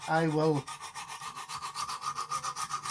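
A knife blade stroked over a coarse Lansky diamond sharpening stone, a close, dry, raspy scraping in quick regular strokes, preceded by a brief higher grinding whine at the start.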